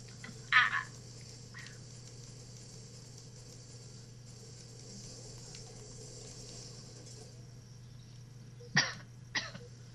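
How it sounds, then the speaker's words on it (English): Coughing, two short harsh bursts, one near the start and a pair of coughs near the end, loud and close over a quiet humming background with no speech. "Cough, cough, cough."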